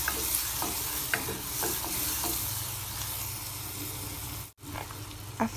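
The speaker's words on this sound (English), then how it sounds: "Next, stir the onion until it turns to transparent look." Chopped onion fries in melted butter in a pot while being stirred, a steady soft sizzle with intermittent scraping clicks of the spoon, close and fairly quiet, no talk.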